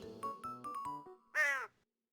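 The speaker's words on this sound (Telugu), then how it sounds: "కాకి చూసి కావుమని అరిచే" A few short tonal notes, then a single loud, harsh caw of a crow that stands out clearly before silence.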